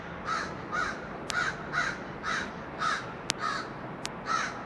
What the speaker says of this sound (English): I think I've upset a crow or something